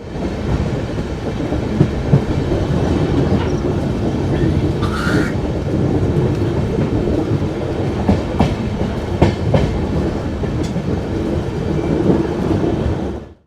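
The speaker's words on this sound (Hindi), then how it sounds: "तो यहाँ से आप एंजॉय कीजिए ट्रेन का बेस्ट ट्रैक साउंड और हाई स्पीड एक्शन।" High-speed AP Express train running on track on the Delhi to Nagpur route, with a steady loud rumble and rolling rail noise throughout plus occasional clicks, no talking.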